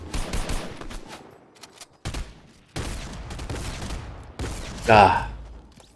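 Bursts of rapid gunfire in the Fortnite video game, several sharp loud volleys separated by short gaps, with a person talking over parts of the exchange.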